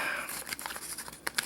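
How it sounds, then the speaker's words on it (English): Close, quiet snipping of scissors through paper, with a few crisp cuts and light crinkling between them, no voices. "I'm going to be very careful with the scissors as I work my magic"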